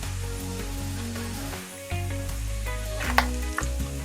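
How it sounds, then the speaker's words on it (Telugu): Peanuts and green chillies sizzle in hot oil while a spoon stirs them, with a steady close frying hiss and a few sharp scraping clinks against the pan. "మంచిగా వేగే వరకు వాటిని ఇలా కలుపుతూ వేయించుకోవాలి"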